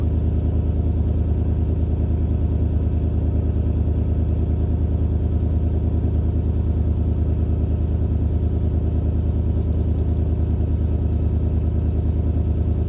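A 2004 Toyota 4Runner engine idles steadily with an even low rumble, with a few faint high clicks near the end; the engine has a mass airflow sensor fault.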